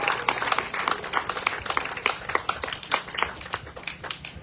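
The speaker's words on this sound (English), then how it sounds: "Give them a round of applause for the tremendous work that they do." Moderate audience applause at the commissioning of a new water well in Cayon, St Kitts, made of distinct individual claps in an uneven rhythm, with a faint voice beneath them.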